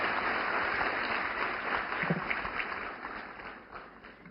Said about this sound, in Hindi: माननीय श्री नरेंद्र मोदी जी के लिए जोरदार तालियां।